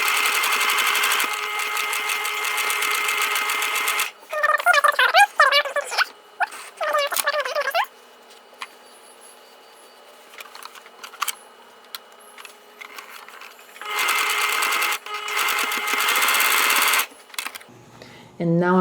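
A sewing machine stitches fabric for a flat-bottom pouch with the presser foot lowered, running in two bursts of rapid, close, steady whirring. Quieter handling clicks and brief rustles fall in between.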